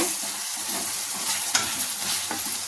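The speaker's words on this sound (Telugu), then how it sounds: "కారం వేసుకొని కలుపుకొని" Chili powder being stirred into cooked-down tomatoes in a pan for a bottle gourd tamarind stew: a soft, continuous sizzle with light scraping stirs.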